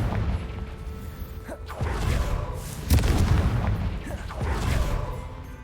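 Fiery Confringo blast spells explode in Hogwarts Legacy, a series of loud booming bursts about a second apart over a continuous rumbling game soundscape, close and heavy.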